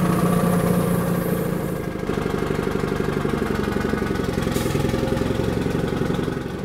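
An old BM tractor engine idles steadily with a low, chugging rumble and some mechanical clatter, running continuously at close range.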